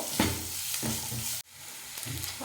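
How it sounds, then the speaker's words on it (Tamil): Chopped onion and garlic sautéing in a pan give a steady close sizzle, broken by a few scraping stirs and one sudden brief drop in sound partway through. "ஆனியனும் பூண்டும் நல்லா பொடி நல்லா பொன்னிறமாக வதங்கிடுச்சு"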